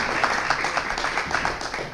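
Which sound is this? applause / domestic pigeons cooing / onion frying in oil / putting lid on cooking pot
applause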